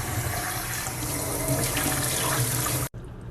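Water runs steadily and fairly loud as rice is rinsed in a pot, then cuts off sharply near the end as the rinse water is poured out.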